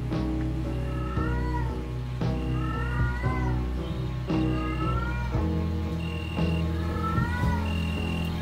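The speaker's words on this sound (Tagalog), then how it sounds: "ang ingay pa ng pusa" A cat meows and yowls repeatedly in drawn-out, wavering cries, nearby and loud over a steady hum with insect chirps.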